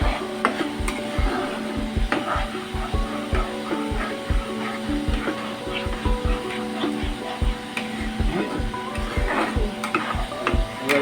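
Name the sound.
stirring paste into butter paneer masala in pan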